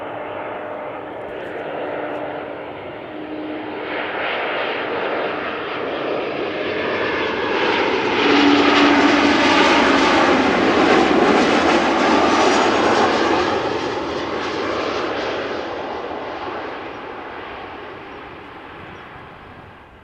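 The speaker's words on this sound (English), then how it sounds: "Embraer 190 arriving from Dublin." A KLM Embraer 190 jet arriving at Amsterdam Schiphol, its broad engine roar building from a distance to a loud pass overhead around the middle, then slowly fading away.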